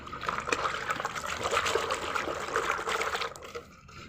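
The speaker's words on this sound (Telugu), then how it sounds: "నేనైతే కొత్త బట్టలు ఏమైనా సరే ఫస్ట్ షాంపూ వాటర్లోనే జాడేస్తానండి" New clothes being rinsed in shampoo water, a soft continuous trickling and sloshing of liquid close by, fading away near the end, with no talking.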